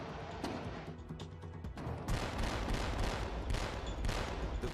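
Naval deck gun mount firing bursts at a slowly moving target at sea, loud rapid reports with a short gap after the first volley, then a dense sustained barrage with no speech.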